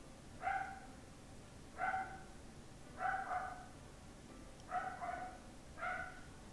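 A household dog barks five separate times at a steady spacing, medium-distant, with no voices over it.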